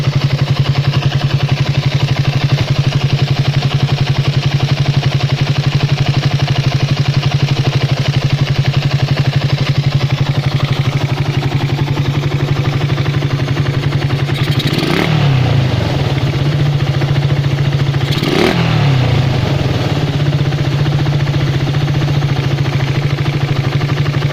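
A pit bike engine fitted with a 30mm PWK carburetor idles loudly and close up with a steady low throb, briefly stumbling or blipping twice near the end, without speech.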